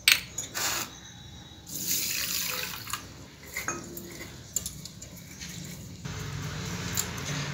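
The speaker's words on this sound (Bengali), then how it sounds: "জল পাল্টে পাল্টে ধুয়ে নিচ্ছি" Gobindobhog rice is washed by hand in a bowl of water with the water changed between rinses, giving close splashing, sloshing and light clinks of grains and metal, loud at first and then settling.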